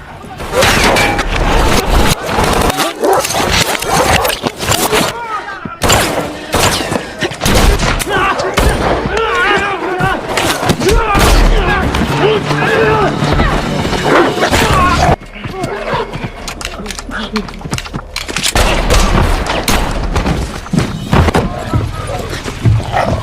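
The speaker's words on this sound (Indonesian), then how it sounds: "mereka berdua pun terlibat baku tembak dengan anak buah si pria" Rapid gunfire from a shootout in a John Wick movie, loud dense bursts running nearly throughout under a voice talking, with brief lulls and mixed action effects.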